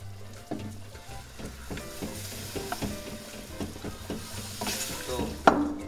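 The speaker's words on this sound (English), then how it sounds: "now we add the milk" Milk poured into a pan of flour-based bechamel sauce for Florentine crepes, stirred with steady scraping and soft sizzling, with a clatter near the end.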